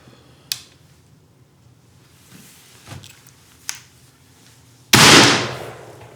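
Shot from an antique, roughly 180-year-old rifle fired at a target, one sharp loud blast near the end after a few faint clicks and taps, with a decaying boom.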